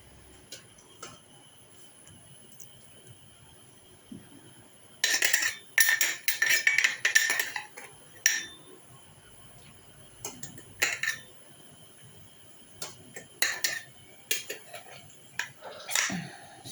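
Tomatoes pressed into a glass jar, with sharp clinks and taps of glass and utensil in bursts, clustered in the middle and scattered toward the end, over a quiet background.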